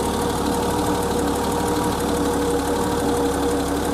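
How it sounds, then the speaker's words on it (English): A 1988 BMW E30 engine idles steadily with a continuous, even mechanical hum and faint knocking texture, close and loud, with no voices throughout. "But engine is idling, I don't want to do that"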